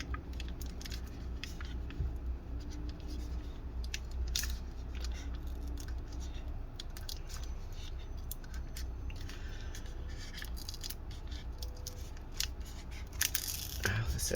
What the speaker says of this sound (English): we're gonna peel this off. Okay, peel the adhesive.